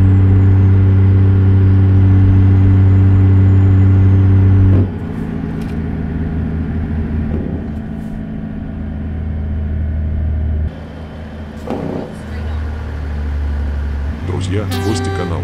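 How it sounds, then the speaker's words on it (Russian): A Kenworth W900 truck in American Truck Simulator idles with a deep, loud engine drone and exhaust rumble, the pitch and level dropping and shifting in stages with short mechanical clicks and puffs toward the end. "Оцените, пожалуйста, в комментариях, как вам звук двигателя и выхлопной системы."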